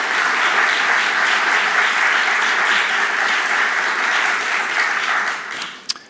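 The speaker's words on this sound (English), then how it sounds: "let's give applause for Taylor." A crowd claps for an honoree at an alumni awards ceremony, a thick, even wash of applause holding steady before tapering off near the end with one last sharp clap.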